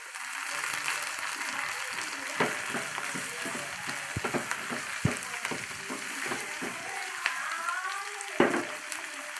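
Chopped tomatoes hit hot oil in a pan of spiced potato stir-fry with crushed garlic. Steady close sizzling carries some sharp crackles and stirring scrapes, with no talk.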